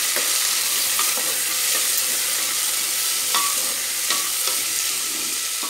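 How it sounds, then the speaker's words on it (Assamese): Carrots and radish frying in oil in a pan over high flame, a constant bright sizzle with occasional sharp scrapes and taps of stirring. "এতিয়া এইখিনি ভালদৰে ফ্ৰাই কৰি লম।"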